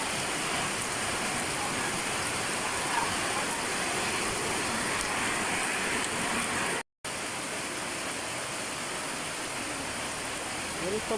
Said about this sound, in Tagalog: Walang tigil mga langga yung ulan.